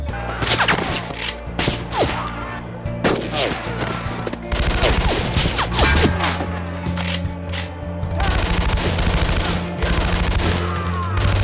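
Heavy machine gun fire in a movie scene from 28 Weeks Later, loud and sustained rapid bursts with crashing impacts, brief gaps between volleys, and shouting mixed in.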